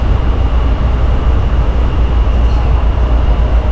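Loud continuous low rumble and rattle inside a moving Honolulu Skyline commuter rail train in Hawaii, steady throughout with no speech.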